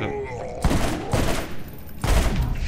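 Bursts of weapon fire in Borderlands' Zombie Island of Dr. Ned, three sharp volleys spaced about a second apart against a low game backdrop, with a voice talking in the gaps.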